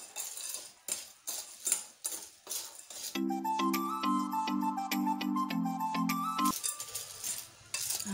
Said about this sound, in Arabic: وغنخلطوا هذا الشيء كامل.